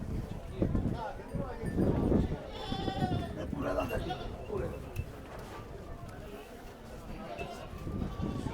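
Goats bleat repeatedly nearby at a goat market amid people talking, with some shuffling and hoof-like knocks in the background.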